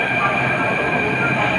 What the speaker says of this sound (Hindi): ये देखो मेट्रो ट्रेन आ रही है।